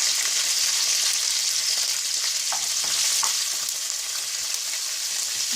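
Curry leaves and green chillies sauté in hot oil in a pan, giving a loud, steady hiss and crackle, with a few faint stirring scrapes underneath.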